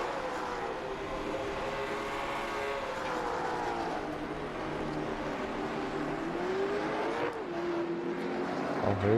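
A race car in an LMSC series qualifying session at Kern rejoins the track, its engine droning steadily with rising and falling pitch from moderate distance, nearing and swelling louder toward the end; no talk is heard.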